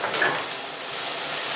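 Shallots and garlic frying in a pan, a soft, steady sizzle with no talk.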